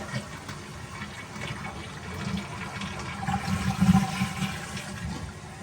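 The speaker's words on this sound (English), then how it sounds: "Let's flush the toilet." A toilet flushes with a steady rushing gush of water that swells midway and then settles into refilling, heard close and alone.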